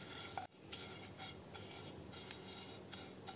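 Vermicelli roasting in ghee in a pan, heard as quiet dry rasping and rubbing strokes repeated at an irregular pace as it is stirred, fairly close and alone, with no talking.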